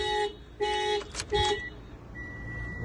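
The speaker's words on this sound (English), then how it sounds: "It's turning off the alarm." A 2017 Mitsubishi Outlander's alarm shutting off, a few short electronic chirps and beeps in quick succession followed by a fainter sustained tone, heard close with no talking.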